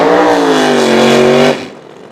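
A pro-charged fifth-generation Camaro drag racing car at Toronto Motorsports Park roars loud and close with a steady, harmonically rich engine note for about a second and a half, then cuts off and fades.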